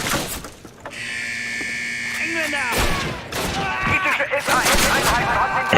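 Gunfire in the video game Call of Duty: a burst of shots with ringing electronic tones, followed by more game effects and sounds, fairly loud and close.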